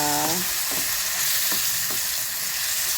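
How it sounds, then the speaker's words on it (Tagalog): Onion sautéing in a pan at the start of cooking ginisang ampalaya, a steady broadband sizzle with a few soft stirring scrapes, close and continuous with no talking. "Gigisa ko muna yung sibuyas, tsaka"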